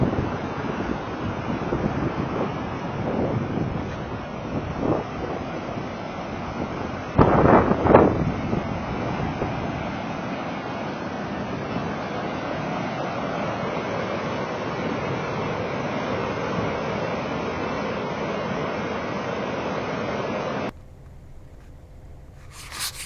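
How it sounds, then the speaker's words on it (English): Strong gusting wind roars steadily across the microphone beside a flooded river in April, a loud continuous rush with a brief sharper buffet partway through, then abruptly drops to quieter sheltered background near the end. "The wind is ridiculous."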